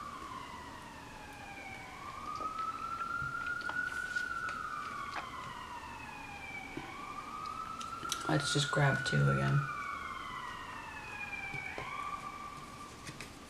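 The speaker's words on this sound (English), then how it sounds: "Sometimes that's an ambulance that does that." A wailing siren from an ambulance passes outside in long rising and falling sweeps, moderately distant, with a brief burst of loud electronic yelps in the middle and a voice speaking briefly over it.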